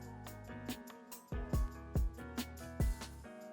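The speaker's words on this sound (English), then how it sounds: "I added this tambourine loop and a vinyl" A jazz hip-hop beat in FL Studio plays quietly with a tambourine loop jingling in regular bright hits over thumping low drums and sustained chords, a faint vinyl crackle texture underneath, no voices.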